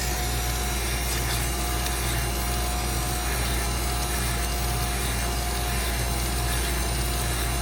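A ramrod pin for a Kibler Woodsrunner flintlock kit spins in a drill chuck while a file is held against it, producing a continuous, close, even rasping whir with a steady motor hum underneath throughout.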